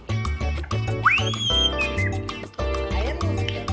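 An African grey parrot imitates a horse whinny, producing close, rhythmic pulsing calls mixed with a rising whistled squeal, sustained for several seconds.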